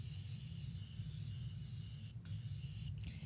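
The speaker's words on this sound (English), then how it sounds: "It's my favorite setting spray, Morphe Continuous Misting." Morphe Continuous Misting setting spray releases a steady, fine hissing mist close by, with two brief breaks near the end, over a low background hum.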